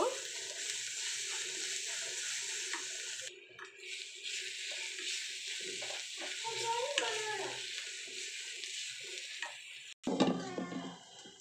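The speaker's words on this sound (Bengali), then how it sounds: "একটুখানি ধনে আর জিরের গুঁড়ো, দিয়ে আবারও ভালোভাবে নেড়ে চেড়ে নেব" Ground coriander and cumin fry in oil over a slow flame while being stirred, a steady close sizzle with spoon scraping against the pan, a louder clatter and burst near the end.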